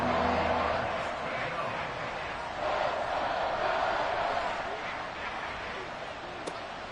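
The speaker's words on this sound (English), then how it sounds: "This crowd into it now." Steady stadium crowd roar in the Madden 24 football game, a broad continuous wash of cheering noise with a brief swell around the middle, under and between play-by-play commentary.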